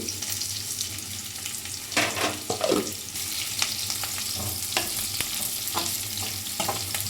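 Onions and cumin fry in a pan, a steady close sizzle broken by bursts of spatula scraping and stirring strokes, moderately loud throughout.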